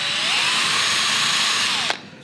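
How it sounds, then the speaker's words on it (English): A power drill boring into wood whines steadily at close range, its motor pitch holding then dropping as it winds down and stops. "I'm going to use the drill again just to lift out the fibres."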